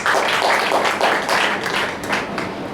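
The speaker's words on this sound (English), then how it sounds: "Clap for her again." A church congregation applauds together, a dense patter of many hands clapping at once, loud and close, swelling in brief waves for a few seconds before easing off.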